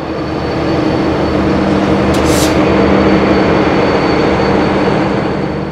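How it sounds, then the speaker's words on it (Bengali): Diesel locomotive train departing a busy station, a loud steady engine rumble and broadband roar up close, with a brief high hiss partway through. "তো দেখো ট্রেন কিন্তু ডিপার্চার হয়ে গেল।"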